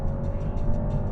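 BMW 330e hybrid saloon under full throttle, its engine a steady, loud roar throughout a brief, continuous burst with no speech.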